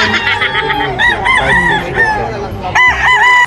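Roosters crow loudly and close at a crowded gamefowl expo in Bocaue, several overlapping crows and clucks from different birds filling the short stretch with hardly a pause.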